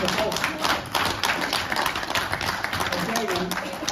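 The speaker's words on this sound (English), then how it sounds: "Let's give John Walker a round of applause." Live audience applause at a stand-up history comedy show, a dense, continuous wash of many hands clapping, loud and sustained for several seconds.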